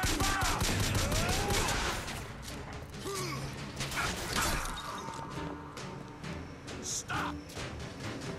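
A fast-firing pistol in BioShock Infinite lets off quick shots mixed with crashes, mechanical clatter and other game effects at moderate loudness.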